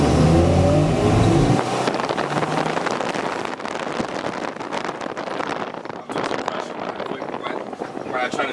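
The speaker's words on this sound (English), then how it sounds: "I'm gonna go out into the road and I'm gonna show you guys how to downshift" A car with a failing clutch master cylinder drives down a road while being downshifted without the clutch: a loud engine roar at the start gives way to steady, close rushing wind and road noise.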